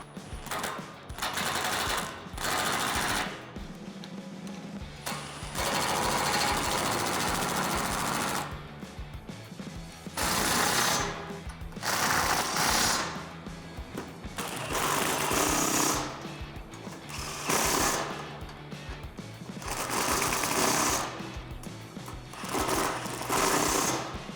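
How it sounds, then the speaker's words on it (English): A cordless impact wrench fitted with a 13mm socket and a 3-inch extension tightens roof rack mount bolts on a Jeep Wrangler JL 4-door. It sounds as loud, rapid hammering bursts of a few seconds each, repeated about eight times with short pauses between. "I'm using a 13mm socket as well as my impact wrench and a 3-inch extension to give myself some room."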